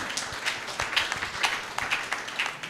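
Congregation applauding in a church, a steady spread of many hands clapping at moderate distance, dense and continuous without pauses, no voices rising above it.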